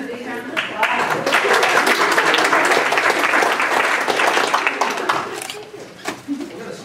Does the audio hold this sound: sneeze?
no